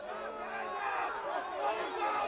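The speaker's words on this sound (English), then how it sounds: "Home crowd feeling unhappy, as you can hear." A home crowd at an amateur soccer match, Excelsior New York versus Met Oval Academy, grumbles and shouts in discontent, a steady murmur of many voices with a brief whistle-like tone early on.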